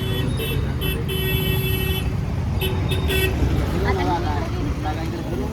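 A bus rolls along a village road amid a constant rumble of traffic, with several short horn toots sounding in bursts over the engine noise and faint voices in the background.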